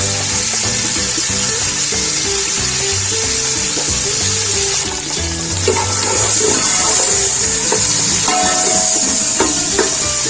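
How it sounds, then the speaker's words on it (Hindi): Onions frying in hot oil for a beef pulao, a loud, dense, continuous sizzle close up with occasional clinks and shifting as they cook. "इसमें प्याज शामिल कर देंगे। ऑयल अच्छे से गर्म हो चुका है।"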